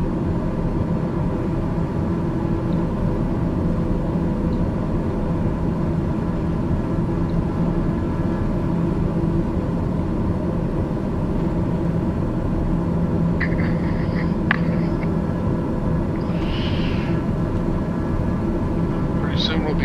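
A Daher TBM 930 turboprop on approach to Cold Bay, Alaska, in unstable mountain winds, heard from inside the cabin as a constant loud engine drone and rumble throughout, with a few faint brief clicks and tones near the end.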